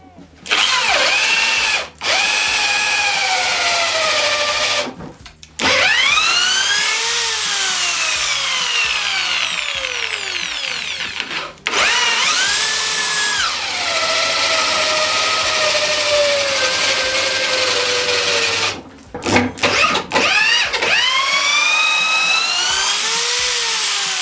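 A powerful Pro Craft impact drill grinds loudly into wood with a large 35 mm bit, whining and labouring in long runs broken by a few brief pauses, close and continuous.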